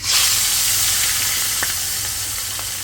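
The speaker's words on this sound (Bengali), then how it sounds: "মাছ ধুয়ে আনিছি যে অল্প কিছু ভাইজা দেবো" Fish fries in a pan with a loud, steady sizzle and hiss of hot oil, brightest at the start and easing slightly while it continues, with a few faint pops and clinks near the end.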